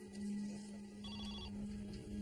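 A telephone ringing in a crime documentary, a steady electronic ring tone sounding continuously for a couple of seconds over a low background hum, fairly quiet and with no talking.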